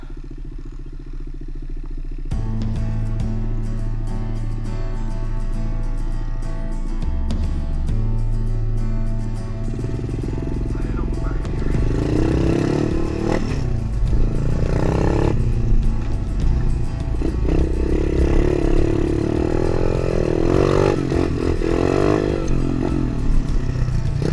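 A Tao Tao DB24 pit bike engine, a small 110 cc dirt bike, runs continuously with a steady droning buzz that rises and revs during a ride, loud and alone throughout.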